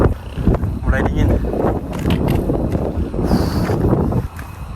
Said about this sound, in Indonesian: Suara anginnya, suara pohon kena angin.